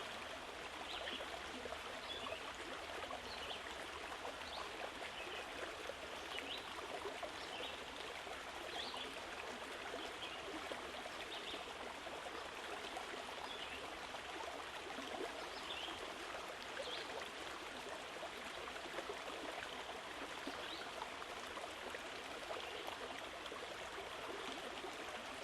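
Gentle river water flowing steadily past a bank, a soft continuous wash with light trickling, no voices over it.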